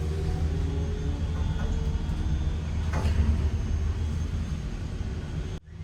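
Inside a Metra Electric District commuter train in Chicago while it rides, a steady deep rumble and rolling hum fill the car, with a brief swell midway before the sound cuts off abruptly near the end.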